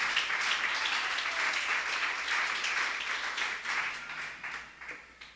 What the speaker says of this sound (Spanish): denle un fuerte aplauso al Señor porque Él vive y reina